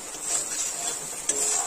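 A spoon stirs spice masala frying in oil in a pan for a rustic Bengali vegetable chorchori, a soft steady sizzle with a brief metallic clink near the end, close and fairly quiet.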